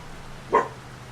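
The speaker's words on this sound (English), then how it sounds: "Sorry for my dog barking." A cattle dog barks once, a single short bark heard at a moderate distance over steady low background noise, during play of Farming Simulator 25.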